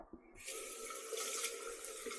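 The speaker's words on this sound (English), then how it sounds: "hot water's coming out of there" Hot water rushes from a newly opened tap after a cylinder refill. It starts abruptly and keeps up a steady, close hiss of flowing water, with no talk over it.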